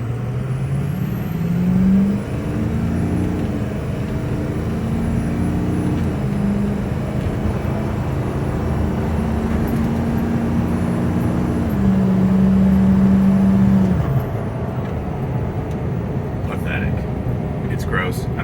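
A 6.0 Powerstroke diesel truck on a full-throttle 0 to 60 run with no tune, a loud sustained engine drone rising through the gears with shift steps, close inside the cab, with someone talking over it.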